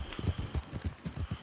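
Horse hooves clip-clopping at a steady gait while riding in Red Dead Online, a quick run of soft, regular thuds at low level.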